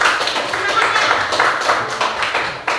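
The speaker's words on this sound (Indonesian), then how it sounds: "tepuk tangan buat kelompok yang ketiga, nak" Children in a classroom clap for a classmates' group, a short burst of ragged hand claps at moderate loudness with voices mixed in underneath.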